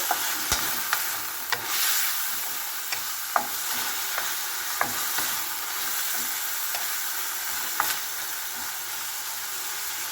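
A spatula stirs bean sprouts and chicken in a hot pan, with a steady sizzle and scattered sharp scrapes and taps against the metal, close and alone.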